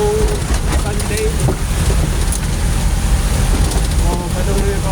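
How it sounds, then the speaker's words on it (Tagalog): Strong wind and heavy rain during a typhoon in the Philippines, a loud continuous rushing roar with buffeting, and a voice talking underneath. "Grabing hangin,"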